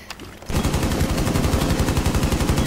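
Rapid automatic gunfire in the video game Rainbow Six Siege during a Maverick round: after a quieter half-second, a loud, continuous stream of fast, evenly spaced shots runs to the end.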